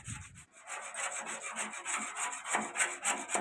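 Old paint is scraped from a Tata Ace truck's metal body with a hand scraper: close, quick rhythmic rasping strokes repeat steadily, faint overall, after a short low thump at the start.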